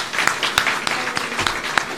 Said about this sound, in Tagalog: Ito, palakpak lahat ng media